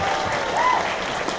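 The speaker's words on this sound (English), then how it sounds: "Give her a big round of applause." Applause and cheering from a fan convention audience, a dense, steady wash of clapping throughout, with a faint whoop or voice rising briefly in the middle.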